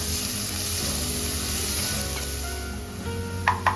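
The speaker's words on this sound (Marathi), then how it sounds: "त्यात हिरव्या मिरच्या आणि बारीक चिरलेला कांदा टाकून छान परतून घेऊया" Onion, green chillies and vegetables sauté in a pan for a paneer biryani, a steady moderate sizzle with light stirring scrapes and a couple of brief clinks near the end, with no voices.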